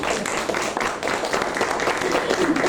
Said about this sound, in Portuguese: estão a pedir ali uma salva de palmas,